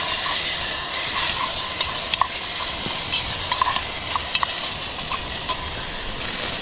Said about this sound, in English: I'll give that a stir